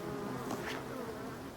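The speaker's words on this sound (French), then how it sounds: "Un autre frelon." A hornet buzzes faintly and steadily near wild black bees in a Breton marsh, a thin continuous drone that swells slightly midway.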